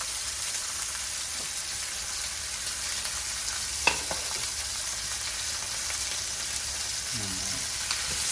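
Chicken searing in oil in a pan for Coca-Cola chicken, a continuous close sizzle with a few clicks of a utensil moving the pieces around and a brief faint murmur near the end.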